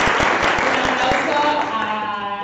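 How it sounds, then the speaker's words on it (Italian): Audience applause for a nun choir director at a Christmas concert in a formation house. Steady crowd clapping runs under lingering singing or voices and gradually fades. "Un applauso"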